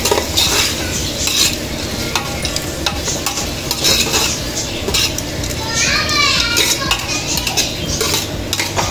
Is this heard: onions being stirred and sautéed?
yes